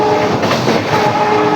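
A WDP4B diesel locomotive hauling train 19203, the Bandra–Veraval express, sounds its horn: a loud, sustained tonal blast over the rolling clatter of carriages.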